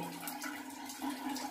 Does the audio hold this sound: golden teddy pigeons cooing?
no